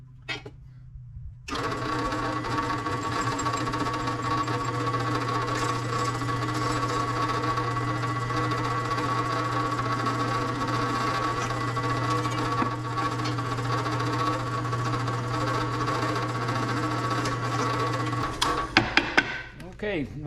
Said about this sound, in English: what we did was drilled the 5/16 holes